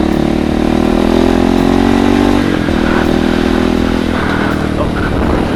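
Kawasaki KLX 230 motorcycle engine running steadily while riding slowly through a residential complex, a continuous loud mid-pitched drone with a brief throttle change midway.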